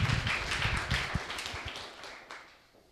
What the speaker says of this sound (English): Let's give applause, warm applause to Peter.